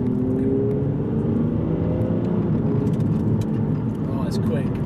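Aston Martin Virage in sport mode with firm suspension, its engine pulling hard in a steady loud drone heard from inside the cabin, continuous throughout with speech likely over it.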